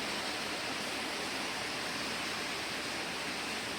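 Bread slices coated in breadcrumbs frying in hot oil, a soft, even, continuous hiss with no voices over it.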